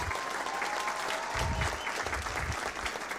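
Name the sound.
audience applause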